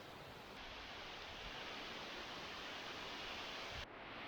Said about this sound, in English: This is such a pretty waterfall.